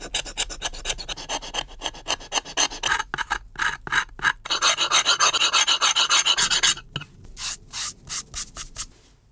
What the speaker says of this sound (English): Now that most of the leather is removed, we can scrape off the leftover fibers and old glue.